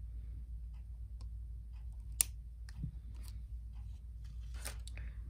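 Scissors cut a strand for a five-strand beaded necklace, giving one crisp snip and a few soft ticks of handling over a steady low room hum.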